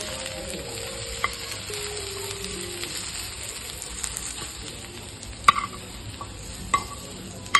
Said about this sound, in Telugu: ఆయిల్ హీట్ ఎక్కిన తర్వాత మనం ముందుగా కట్ చేసి పెట్టుకున్న ఉల్లిపాయల్ని వేసుకొని ఫ్రై చేసుకోవాలి